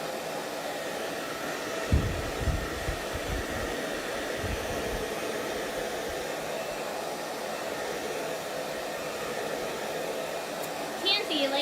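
A hair dryer runs on shimmer paint, a steady close blowing whoosh that continues throughout, with some low knocks early on and faint sounds near the end.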